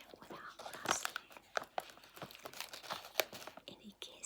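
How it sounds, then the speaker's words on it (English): Soft rustling and crinkling of a wrapper or packaging in a quiet, cosy setting, with crisp close-up crackles scattered throughout and whispered, soft conversation underneath. "Should we do the rustling thing first?"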